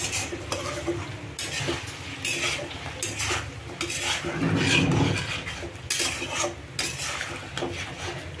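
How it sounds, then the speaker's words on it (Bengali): Chicken pieces are stirred and fried in a pan, a loud, rhythmic series of spatula scrapes over a constant sizzle that swells midway. "তারপরে একটু নেড়ে দেবো, আর একটু আমি এটা ভাজা ভাজা করে নেব"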